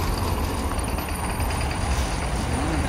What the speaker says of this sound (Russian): Два автобуса нам подходящих.